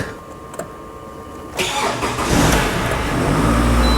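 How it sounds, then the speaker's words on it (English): After a quiet moment a Toyota RAV4 engine cranks and catches, then settles into a steady, loud running rumble. "So now the vehicle should start."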